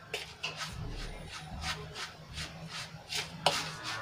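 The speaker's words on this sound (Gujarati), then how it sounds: "તો સરસ રીતે આપણે મિક્સ કરી લઈશું" Wheat flour batter stirred with buttermilk in a bowl, a steady series of soft, close, rhythmic scraping and slapping strokes.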